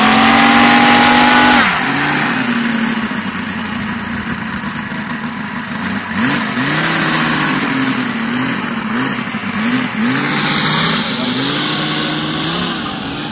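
A radial engine runs loud and close, holding a steady drone before throttling back and wavering through repeated rising and falling pitch swings as the revs shift.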